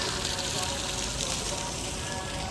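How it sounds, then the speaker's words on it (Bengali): A waterfall's water rushes in a dense, steady roar close by, with a voice talking faintly over it. "এই যে ঝর্ণা"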